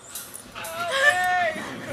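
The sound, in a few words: crying baby goats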